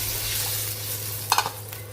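Broth and water poured into a pan of sautéed aromatics for a home-cooked soup, giving a steady hiss and sizzle with a few sharper splashy bursts midway over a low constant hum.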